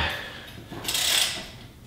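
A ratchet wrench being switched and turned while pulling a bolt during a steering stabilizer mount install, giving a short burst of brief mechanical clicks, close and fairly quiet, with no talking.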